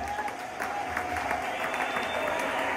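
A church congregation claps steadily during a Sunday worship service, a sustained wash of applause from many hands filling the room without pause, moderately loud and reverberant.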